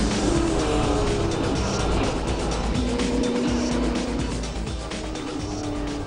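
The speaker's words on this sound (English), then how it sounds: "the cars roll around on a formation lap for race 3" V8 touring race cars of the Kumho Series at Winton circuit roll around on a formation lap, a steady engine drone with a low throbbing hum held at a constant level throughout.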